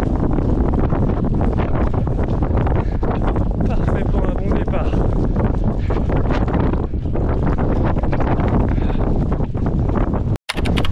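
Loud, blustery wind roars against the microphone throughout during a marathon run, with a person speaking briefly under the rumbling gusts.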